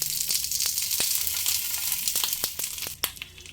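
Bhetki fish paturi cooks over a low gas flame, giving a steady close sizzle and hiss broken by scattered sharp crackles and pops, with no voices.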